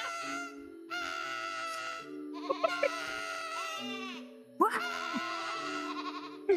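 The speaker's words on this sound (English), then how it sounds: "Is it the screaming goat?" Screaming goat from the game Cult of the Lamb, several loud, harsh bleating screams in sequence, each a drawn-out wavering cry over a steady music bed, close and dominant.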